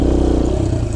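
Kawasaki KLX140 dirt bike engine roaring steadily and loud during a wheelie, a brief, close, continuous buzz.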